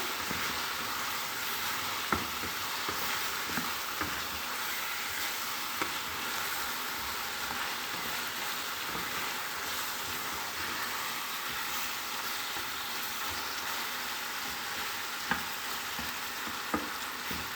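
Chicken pieces with spices sizzle loudly in a pan, a continuous hiss of frying broken by scattered clicks and scrapes from stirring, with no voices.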